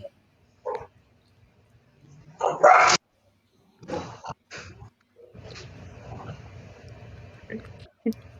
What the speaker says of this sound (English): That was our dog.